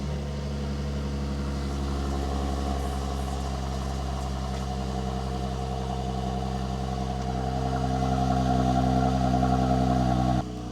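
Mercedes-AMG GLC 43 SUV engine and exhaust running steadily at idle, a loud, even mechanical drone that swells slightly near the end before cutting off abruptly.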